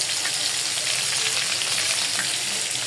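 Shrimp frying in a pan: close, steady and loud sizzling with dense crackling throughout, no voices.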